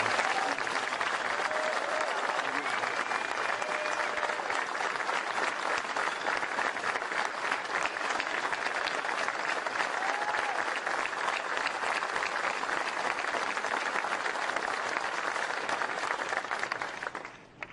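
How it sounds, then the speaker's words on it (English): An audience applauds United States Army soldiers at a White House event, a dense, steady crowd clapping that holds at even strength for the whole stretch and fades at the very end. "Would you join me in a round of applause for every man and woman here who's worn the uniform of the United States Army?"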